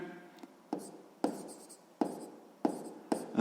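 Pen scratching across paper while working a sixth-grade maths problem by hand, in short strokes that come in bursts about every half second to second, close and fairly quiet.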